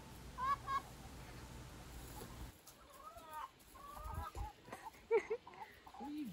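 Hens cluck and chatter in short bursts against a low background hum, some calls close and others further off.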